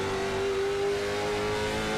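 Stock race cars on a short track at an EPI Short Track Monday late model event roar steadily with a continuous engine drone, loud and close, holding one sustained pitch with no break.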